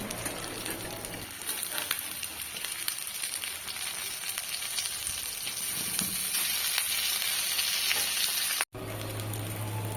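Taro stolons fry in a covered pan, giving off a steady, close, hissing sizzle with crackles that runs continuously and briefly cuts out near the end.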